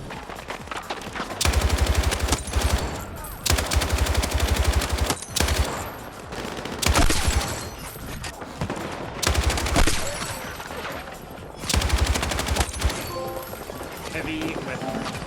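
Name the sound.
light machine gun fire in video game Battlefield 6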